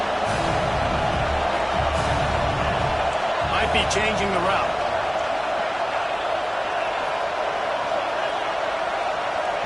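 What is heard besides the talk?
stadium crowd noise in NCAA football video game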